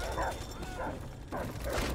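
Attack dogs in a Call of Duty match bark and yelp in a few short bursts over game noise, with speech mixed in.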